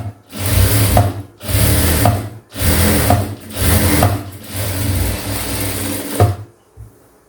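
A sewing machine stitching a seam along the edge of blouse cloth, running in loud, close bursts of steady mechanical whirring, stopping briefly between runs before going quiet at the end.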